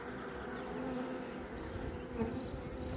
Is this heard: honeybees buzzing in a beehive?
yes